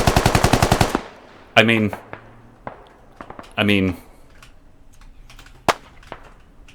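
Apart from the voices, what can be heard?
gunfire and grenade in video game Squad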